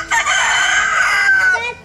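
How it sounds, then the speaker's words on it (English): A rooster on a beach island in the Philippines gives one loud, close crow, a long drawn-out call lasting under two seconds in the early morning. "Here are one of those noisy roosters."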